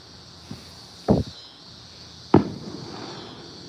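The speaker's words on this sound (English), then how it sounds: "I hear fireworks, but I don't see them." Three firework bangs pop at a distance: a faint one, then two louder cracks about a second apart, each trailing off briefly over a quiet background hum.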